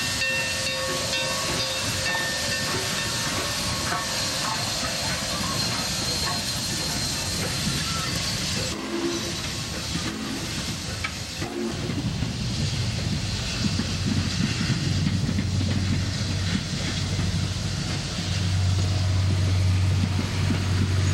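Union Pacific steam locomotive hauling a freight train toward Kansas City, Missouri, giving a steady, continuous hiss of steam over a low rumble that deepens and grows heavier in the later seconds.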